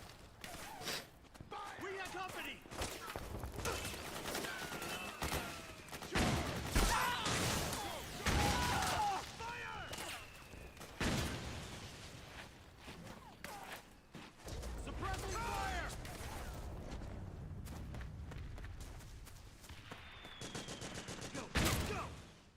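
Dense bursts of video game gunfire and booming explosions from Metal Gear Solid 4: Guns of the Patriots crash repeatedly, loud and chaotic, with people talking over the action.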